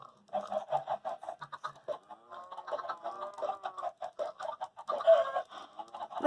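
Several chickens in Minecraft cluck and chatter in quick, overlapping bursts, fairly close and clear, with no other sounds around them.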